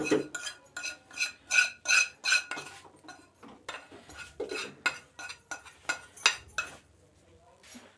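A spoon stirs a paneer tikka marinade as roasted gram flour, cooled in mustard oil, is mixed in, giving rapid scraping strokes and light clinks against the bowl, close and without speech.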